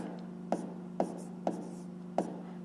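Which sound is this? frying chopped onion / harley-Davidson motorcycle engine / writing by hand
writing by hand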